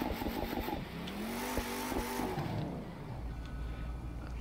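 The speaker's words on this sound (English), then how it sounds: "Do a burnout, cause why not?" A cheap stock car in a street racing video game does a burnout, its engine revving and wavering up and down in pitch over tire noise before dropping back to a low idle rumble.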